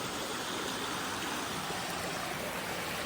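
Creek water flows steadily over rocks in a bushland reserve, a broad continuous rushing wash heard close and alone for a few seconds with no voices.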